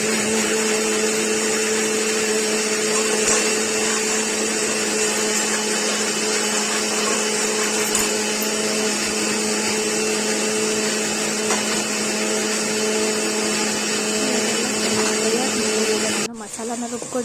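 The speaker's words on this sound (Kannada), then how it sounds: "ಮಸಾಲಾನ ರುಬ್ಕೊಂಡಿದ್ದೀನಿ." A mixer grinder grinding a masala of cinnamon, cloves, ginger and coriander powder, a loud steady high-pitched whirring motor that runs continuously before cutting off near the end.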